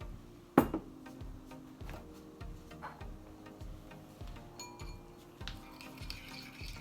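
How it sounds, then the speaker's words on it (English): A utensil stirs cornstarch into a sauce in a bowl, giving soft repeated clinks and scrapes in a steady rhythm with one sharper knock near the start, close and fairly quiet with no talking. "I'm going to mix this up thoroughly so that the cornstarch blends in fully with the sauce"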